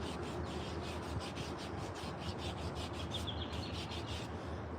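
A carved wooden spoon is sanded by hand with steady back-and-forth rubbing strokes, close and quiet, continuing evenly throughout with no talking.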